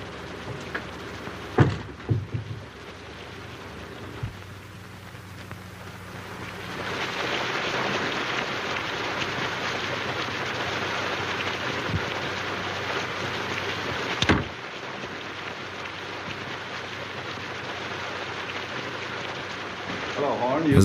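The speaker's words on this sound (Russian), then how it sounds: "Какой сильный дождь." Heavy rain during a night scene in a film, a constant hiss of falling water that thickens and grows louder partway through, broken by a few sharp knocks and bumps, heard without talk.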